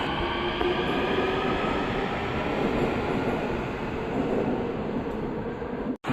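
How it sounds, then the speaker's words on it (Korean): A Daegu Metro Line 2 train rumbles loudly and continuously with steady rail noise on arrival at Cheongna Eondeok station, then cuts off abruptly near the end. "저를 청내 온덕역까지 무사히 데려다 준 219편성 열차 정말 고마워요"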